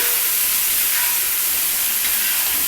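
Okra (bhindi) sizzles while frying, a loud, close, continuous steamy hiss that stays even from start to end with no voices over it.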